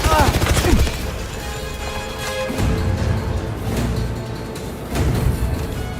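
Gunfire in a realistic shooter game: bursts of rapid shots and heavy impacts, loudest at the start and again near the end, mixed with engine-like rumble and game ambience.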